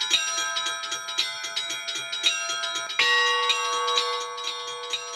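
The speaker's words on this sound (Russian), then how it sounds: "Это называется переборные колокола, потому что ты перебираешь их рукой." Hand-played Orthodox chime bells (perebor), struck one after another in a steady ringing sequence with sustained metallic overtones, loud and close with no talk.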